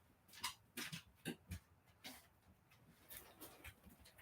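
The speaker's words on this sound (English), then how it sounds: "So the dogs are barking right now." Dogs barking at a distance, faint and irregular, a scattering of short sharp yaps and whimpering sounds spaced through the stretch with no talk over them.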